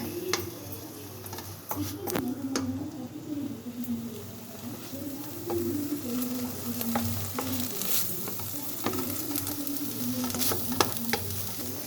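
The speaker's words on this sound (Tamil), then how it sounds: "இப்போ நம்ம துருவி வச்ச தேங்காவை சேர்த்துக்கலாம் நல்லா போட்டு வதக்கி விட்டுக்கோங்க" Grated coconut and drumstick leaves are sautéed in a pan, with a steady close sizzle under repeated stirring and sharp spatula taps against the pan, continuing without pause.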